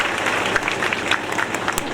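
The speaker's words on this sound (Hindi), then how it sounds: "आप सब इनका बहुत जोर से तालियों से स्वागत करें।" A crowd at a village children's education gathering in India greets guests with loud, dense applause, a continuous close wash of clapping.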